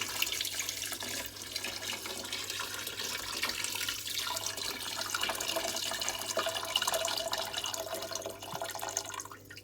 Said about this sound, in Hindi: 8 कप पानी शामिल किया जा रहा है।